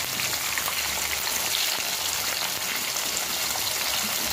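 Mango pieces tossed into hot oil with mustard seeds, cumin and ginger for a pickle, sizzling and crackling in a steady, loud, dense hiss that holds without a break.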